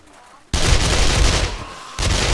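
Gunfire in the video game 7 Days to Die on a PvP battle royale server: a sudden, loud sustained burst of rapid shots cuts in after a quiet start, breaks briefly, then resumes near the end.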